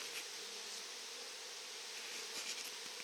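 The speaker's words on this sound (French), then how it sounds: "on voit les abeilles quand même qui battent leur appel" A swarm of honeybees buzzing at the hive, settled on a tree trunk along a river, gives a continuous soft, dense hum of many wings at low volume, steady and unbroken.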